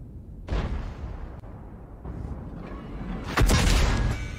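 Heavy gunfire bursts in a competitive shooter match, a sharp shot near the start followed by a louder, sustained volley toward the end, booming and close with no talk over it.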